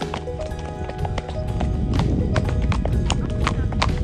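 Horse hooves clip-clop at a steady walking pace through a wild nature reserve in Abruzzo, close and continuous over a rumbling background, with no talking.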